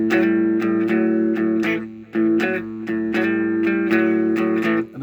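Slow blues shuffle on electric guitar, a steady swung rhythm of repeated chord stabs with a brief gap near the middle, loud and close with no voices.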